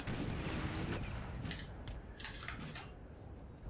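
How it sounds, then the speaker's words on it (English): Artillery shells from a Napoleonic Total War III battle crash down close by, a dense run of rumbling impacts and sharp cracks layered over constant battlefield din, with several bright bursts rising near the middle and end. "This artillery is landing a bit close."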